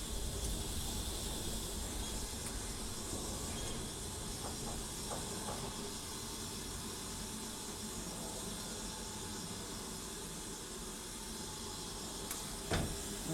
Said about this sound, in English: There we go, steam brake on, back brake on.